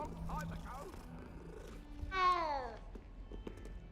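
A cat in Hogwarts Legacy gives a short, rising and falling vocal sound midway, louder than the steady game background, with people talking before and around it.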